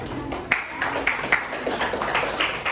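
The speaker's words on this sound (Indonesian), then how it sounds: "kita beri tepuk tangan juga untuk kelompok 3 ya" A classroom of students claps for a presenting group in an Indonesian-language lesson, with a scattered, uneven patter of hand claps and a few sharper individual claps rising over room noise.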